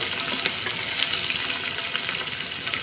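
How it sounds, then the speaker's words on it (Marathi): Garlic dropped into hot oil for a dal tempering crackles in a steady, bright, continuous sizzle, close and alone throughout. "आता यामध्ये मी थोडंसं लसूण सुद्धा टाकून घेणार आहे"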